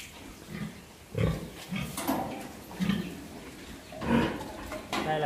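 A pig on a farm grunts and snorts repeatedly during artificial insemination, with several close, moderately loud grunts spaced irregularly across the moment.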